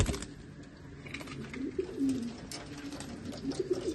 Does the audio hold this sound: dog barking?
no